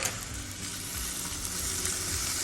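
Shrimp for Cajun shrimp and grits sear in a hot pan, giving a loud, steady, hissing sizzle with no talk over it.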